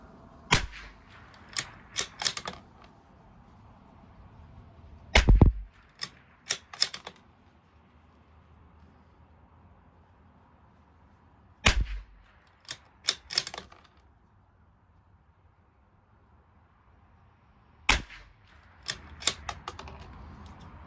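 Rimfire rifles, a CZ 457 LRP, Tikka T1x and Bergara B14R, fire CCI Standard Velocity rounds at 100-yard targets. Sharp, dry cracks come in small clusters separated by quiet pauses.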